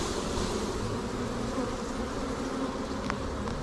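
Honeybees swarm and buzz around an opened hive in a dense, steady drone, close and continuous, with a couple of brief sharper insect passes near the end and no talking.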